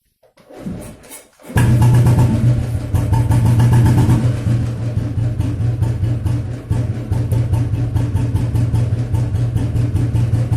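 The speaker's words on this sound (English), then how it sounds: "So start the bike." A Royal Enfield 350/500 cast iron motorcycle engine starts after a short cranking attempt, then settles into a loud, steady, close idle with an even thumping pulse and no talking.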